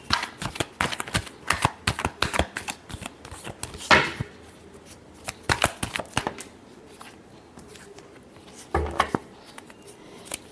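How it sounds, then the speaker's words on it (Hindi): Tarot cards being shuffled in a series of quick, crisp riffles and flicks, with irregular bursts of close, dry card slaps and a couple of louder bridging snaps, no talking. "Last shuffle."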